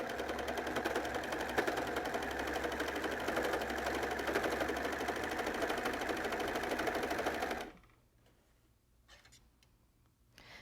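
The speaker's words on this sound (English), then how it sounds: "we're going to run that right through the serger" A serger stitches elastic onto skirt fabric in a fast, steady mechanical whir with rapid ticking for about eight seconds, then stops abruptly, leaving faint handling sounds.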